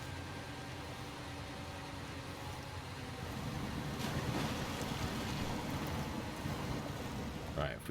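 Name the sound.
wind blowing in Snowrunner video game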